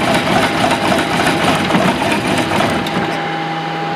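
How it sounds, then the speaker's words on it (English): A boat engine runs steadily at close range with a dense, buzzing mechanical drone and a constant tone, holding an even loudness for the whole stretch. "Good idea to run these engines often, because every time you run them, you lubricate them"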